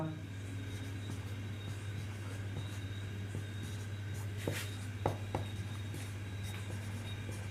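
Notes handwritten with a pen on paper: faint, soft scratching strokes with a few sharper taps, set against a steady low electrical hum.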